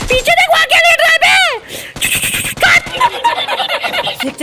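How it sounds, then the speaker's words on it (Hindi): Gunfire in the battle royale game PUBG Lite, with sharp bursts of shots ringing out in quick runs and one sweeping tonal effect, mixed in with excited voices talking and laughing over the action. "एक चाचा हमारे पे फायरिंग करने लगते हैं।"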